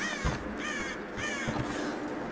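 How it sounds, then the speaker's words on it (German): Ravens in the video game Tomb Raider give several harsh, fairly loud caws in irregular succession, standing alone with no talk over them. "Während hier die Raben reklamieren, wie verrückt."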